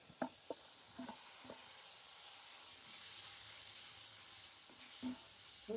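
Tomato with curry leaves frying in a pan, a steady soft sizzle and hiss running throughout with a few scattered stirring clicks and scrapes, fairly quiet and close.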